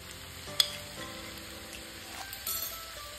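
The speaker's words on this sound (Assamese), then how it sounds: "এইখিনি একদম ল' ফ্লেমত 1 মিনিটমান এনেকৈ ভাজি থাকিম।" Chicken fries in a pan over a low flame in an oil-free recipe, giving a steady, soft sizzle with a few small pops and the clink of stirring close by.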